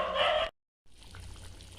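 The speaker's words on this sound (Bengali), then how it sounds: "এবার আমি এর মধ্যে একটু গরম জল অ্যাড করলাম।" Hot water poured into a pan of green hariyali chicken, a short bright splashing rush that cuts off, followed by a quieter low simmering sizzle.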